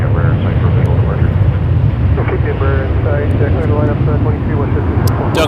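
A WestJet airliner takes off from runway 23 at Toronto Pearson Airport, a loud, steady jet roar with strong low rumble and wind buffeting holding throughout, while radio chatter and voices are heard faintly underneath.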